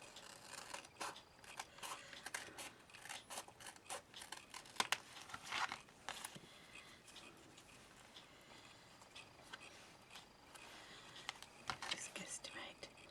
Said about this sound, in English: Just going to cut a little strip.